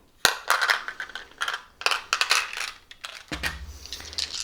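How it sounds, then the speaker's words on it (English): Several Adventure Time set dice clatter and tumble onto a hard surface in repeated bursts, loud and close, with sharp clicking impacts and brief pauses between throws. "We're going to roll 4 dice for you from the Adventure Time set."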